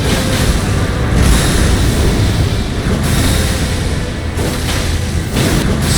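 Radagon's ground stomp explosion in Elden Ring, a heavy booming blast followed by a dense roaring rumble that stays loud and sustained across the whole stretch, with no talk.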